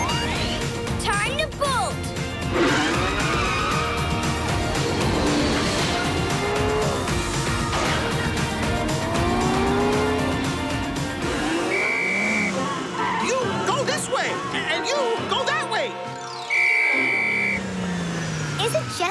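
Cartoon traffic jam, a busy noisy mix of car engines, repeated tire squeals, honking horns and a crash-like clatter, with characters talking throughout over the racket.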